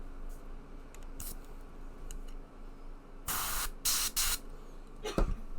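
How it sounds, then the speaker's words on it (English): A sprayer releases a few short hissing bursts, with two close together mid-clip and a final one near the end, over a faint quiet background. "we're just spraying"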